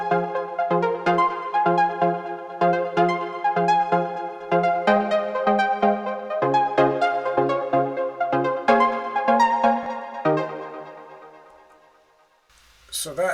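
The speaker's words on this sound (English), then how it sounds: "a generic synth. We're just using a saw wave" A generic saw-wave synth lead plays a repeating melody with bright stacked harmonics, smeared by delay and reverb, in steady note patterns that end with a brief noisy sweep.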